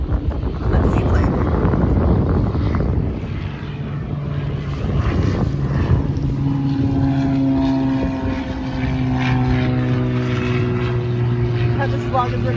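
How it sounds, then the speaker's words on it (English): A propeller airplane flies overhead near a Seattle lake, a loud droning engine with wind buffeting the microphone that settles into a steady hum, and people speak over it. "Let's see, plane."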